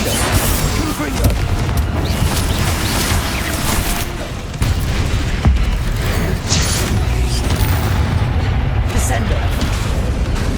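Confringo spell blasts in Hogwarts Legacy going off in a busy fight, loud booming bursts and crashes over dense combat noise and game music.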